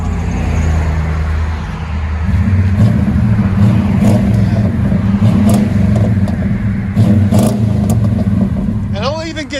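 A Chevy/GMC 1500 5.7L V8 truck with a MagnaFlow exhaust revs steadily and loudly in a deep, throaty rumble without much rasp, holding a low droning tone for several seconds before easing off near the end.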